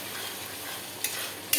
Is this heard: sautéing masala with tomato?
yes